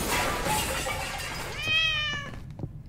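A cat meows inside the horror video game Summer of '58, a short run of bright, tonal mewing that rises out of a dim, hissy background near the end of the moment.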